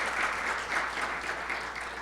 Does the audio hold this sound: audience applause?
yes